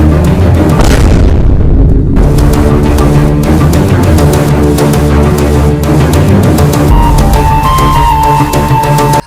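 A loud gun blast booms out, followed by a dense, continuous barrage of sharp cracks and rumbling roar that stays at full loudness through the clip, all near and overwhelming.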